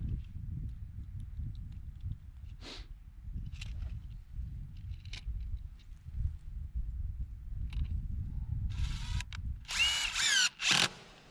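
A power drill drives screws into a fence post outdoors, heard as faint bursts of whirring over low rumbling handling noise, ending in a louder, sharper drilling burst near the close.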